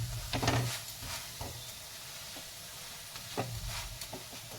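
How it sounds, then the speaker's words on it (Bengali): Potato-stuffed bread fries in a pan, a faint steady sizzle with a few soft presses and scrapes as it is pushed down. "চেপে চেপে ভাজতে হবে"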